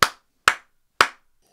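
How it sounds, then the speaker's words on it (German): Three sharp hand claps in a room, evenly spaced about half a second apart, each loud and close with a very short decay and no other sound. "Du kannst es leicht rausfinden, wenn du mal dich in die Mitte deines Raumes stellst und die Hände klatschst"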